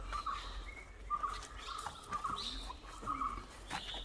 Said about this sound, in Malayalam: നമ്മൾ സൈലൻ്റായിട്ട് പോവുകയാണെങ്കിൽ നമുക്ക് ഈ കിളികളുടെ ശബ്ദവും ഒക്കെ കേൾക്കാൻ പറ്റും.